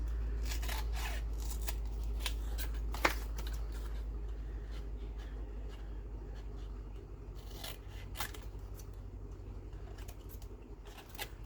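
Scissors trimming paper for the cover of a handmade junk album, a series of quiet close snips and slicing cuts, some in quick clusters, with soft rustling of paper between them and no talking.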